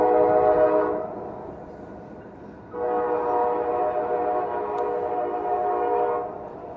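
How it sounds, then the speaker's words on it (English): An old train rolls past near a fishing spot, its horn sounding in two long, loud blasts separated by a short lull, with a steady rumble underneath and no talking. "Old choo-choo train."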